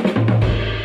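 Short drum figure of snare hits and a booming tom from a song, a few quick strikes with the tom ringing low at the end, with no talking.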